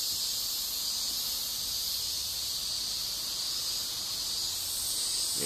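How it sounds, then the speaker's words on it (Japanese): Cicadas drone in a dense, steady, high buzz that fills the whole stretch without pause, loud and unbroken, with no voices over it. "セミがうるさすぎる"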